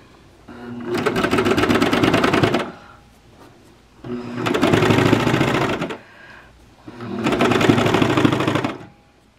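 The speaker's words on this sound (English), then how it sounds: "I think I will maybe do some top stitching" A sewing machine running top stitching on fabric, sounding in three sustained bursts of a few seconds each with short quiet pauses between them, steady and close with no talking.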